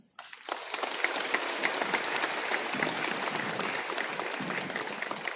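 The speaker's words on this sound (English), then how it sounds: "But you deserve the biggest round of applause." An audience breaks into applause for a guest speaker, dense, sustained clapping starting abruptly after a brief quiet and continuing loudly and evenly throughout.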